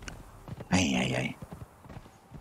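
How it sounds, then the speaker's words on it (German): Horse hooves clip-clop as a mount is ridden in the video game Conan Exiles, a few light, rhythmic hoof taps alongside a short burst of game voice or effect, all fairly quiet. "Franz, komm, wir reiten heim."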